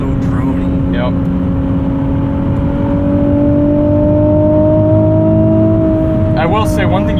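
Loud, steady drone of a 2020 Nissan 370Z NISMO engine at high speed, with a constant hum and slowly rising tone from inside the cabin, and a voice cutting in briefly.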